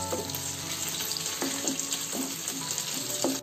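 Onion paste frying with spices in a pan for a stuffed potato masala curry, a steady close sizzle broken by several scraping stirs of a spoon, with no talking.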